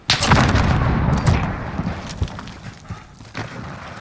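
Grenade explosions in a Battlefield-style shooter on the St. Petrograd map, a loud broadband blast at the start followed by a second burst and rumbling gunfire echoes trailing off, with no talk.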